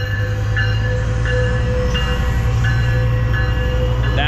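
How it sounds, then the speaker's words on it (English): A train rolls past close by, with a loud steady rumble of wheels on rails and faint periodic clicks from the rail joints, and no voices. "Look at this train."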